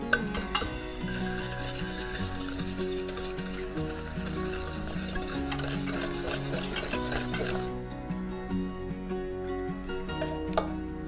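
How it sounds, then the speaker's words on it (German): Eggs and sugar are whisked together in a bowl, a steady scraping, clinking stir against the bowl lasting several seconds under a soft music bed, then easing off, with no talk. "Dazu geben wir 150 Gramm Zucker. Und das kann schon mal miteinander verquirlt werden."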